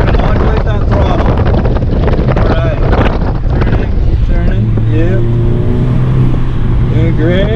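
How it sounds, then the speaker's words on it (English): A 2017 Audi S3 accelerates hard on an autocross course, its engine drone rising and holding steady under heavy wind buffeting, with an instructor talking over it. "Okay, let off. And floor it out."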